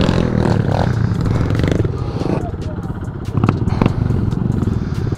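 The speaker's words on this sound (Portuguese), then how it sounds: "Eu tava vindo, mas a moto começou a falhar." A misfiring motorcycle engine on a trail runs unevenly, rumbling and sputtering up close, with clattering noises and a voice talking over it.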